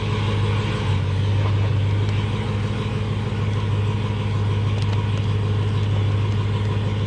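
A stock Dodge Hellcat engine runs on a dyno during a light pull, a steady loud droning rumble with a strong low hum that holds fairly even throughout, with no voices.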